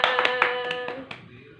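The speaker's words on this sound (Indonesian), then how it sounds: "Tepuk tangan buat kita semua." A short burst of hand claps from a class of fifth-grade children, a few sharp claps close together and fading, with a faint teacher's voice over them.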